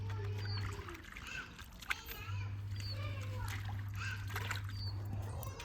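Splashing and sloshing as a white coat is washed by hand in water, alongside a steady low hum, with voices talking throughout.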